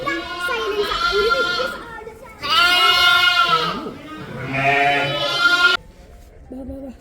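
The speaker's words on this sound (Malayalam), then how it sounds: "അവിടെ ചെമ്മരിയാടുകളുടെ കൂട്ടത്തെ ഇങ്ങനെ മേയാൻ വിട്ടിട്ടുണ്ട്." A flock of sheep bleating on a farm in Kodaikanal, with loud, drawn-out, wavering calls from nearby animals that overlap in long bursts, followed by a fainter sound at the end.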